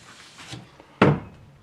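A plywood closet door in a truck camper build swings open with a soft creak, then knocks once against a light fixture in a single sharp, close thunk.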